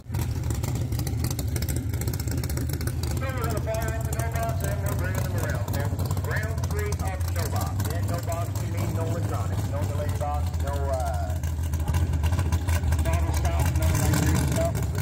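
A loud 660-horsepower 4.7-litre small-block engine runs close by, a constant heavy rumble throughout with slight revving near the end, while people talk over it.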